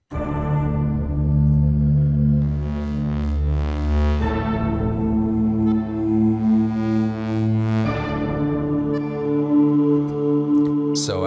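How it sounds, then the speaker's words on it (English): Yamaha TG33 hardware synthesizer playing its robot preset: a loud, sustained buzzy tone that shifts pitch in three long sections with pulsing upper harmonics, heard alone without talk. "Now here's the actual Yamaha TG33."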